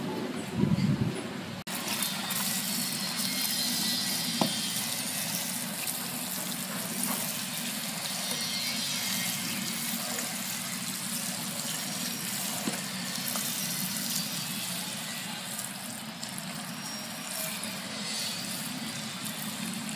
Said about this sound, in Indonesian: Sekarang langsung disiram aja ya.